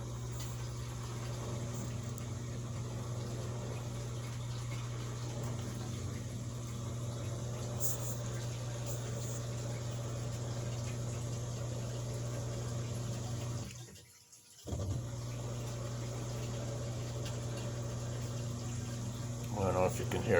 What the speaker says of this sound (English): Now it's draining, getting ready to, it's going to spin out